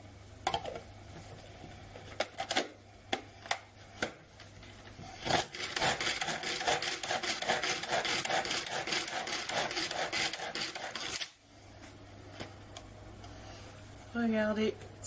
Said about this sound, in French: Nous allons hacher l'oignon dans le turbo top